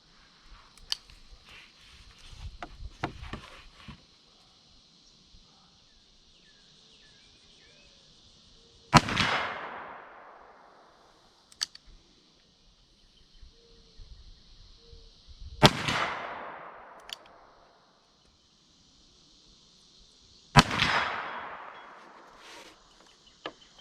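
Three sharp, loud shots from a Taurus Raging Hunter .44 Magnum revolver firing 240-grain jacketed soft point rounds ring out several seconds apart, each followed by a decaying echo, with faint handling clicks and quiet pauses between.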